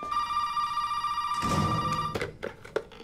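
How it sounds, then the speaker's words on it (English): Telephone ringing in the Resident Evil 7 video game: a steady electronic ring tone holds for about two seconds, then gives way to louder clattering sounds and brief noises near the end. "Follow the sound of the phone."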